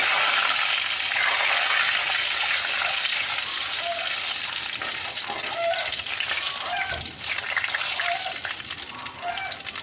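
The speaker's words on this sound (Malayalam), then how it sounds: "അപ്പോൾ നമുക്ക് ജീരകം ഇടാം" Small cumin seeds frying in hot oil for a Palakkad-style okra and sardine curry, a dense, close crackling sizzle with scattered pops throughout.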